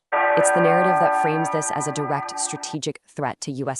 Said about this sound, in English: This right here, this is the sound of the alarm bell.